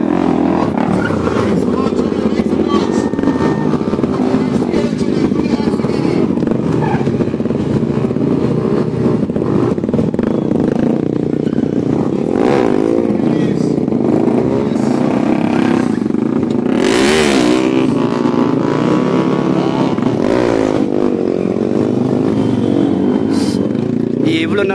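Motorcycles revving at a bike stunt show warm-up, with dense continuous engine drone and roar layered over a noisy crowd, steady and loud throughout.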